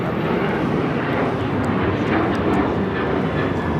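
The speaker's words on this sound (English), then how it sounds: "This is American Airlines Flight 2608 taking off to Chicago on the 737-800." An American Airlines Boeing 737-800 takes off from Los Angeles International Airport, its jet engines a loud, steady, broadband roar that holds throughout.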